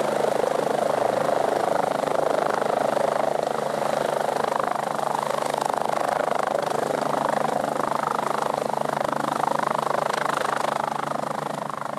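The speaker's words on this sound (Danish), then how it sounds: "så kan vi tilkalde en helikopter." Continuous, loud rotor and engine roar of a medical rescue helicopter, steady throughout without pauses and heard alone.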